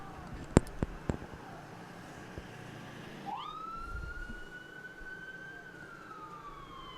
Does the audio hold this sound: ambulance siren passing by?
yes